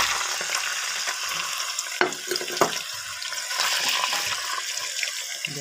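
Meat frying in hot vegetable oil in a cauldron, a dense continuous sizzle with a couple of sharp clanks from stirring, close and fairly loud with no voices.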